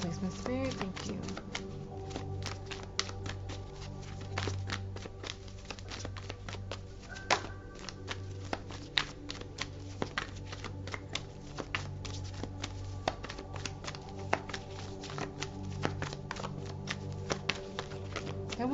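Tarot cards are shuffled repeatedly up close, a steady stream of crisp riffling and tapping clicks with a faint low hum beneath.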